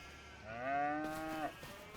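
A single drawn-out cow moo from Farming Simulator 25 on the Riverbend Springs farm, loud and close, rising then falling over about a second with no talk over it.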